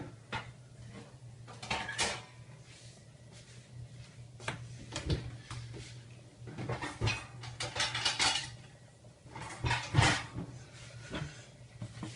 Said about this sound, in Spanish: Le tapamos con una tapa, así